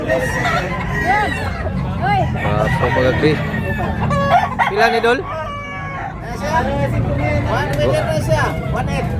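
Roosters crow and cluck at a fighting-cock market in Tabunok, Talisay, Cebu, several calls rising over a crowded backdrop of buyers haggling, with a dog barking faintly now and then.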